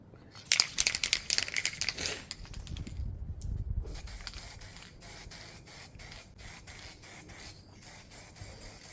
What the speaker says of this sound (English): look at where else might need a quick clean and spray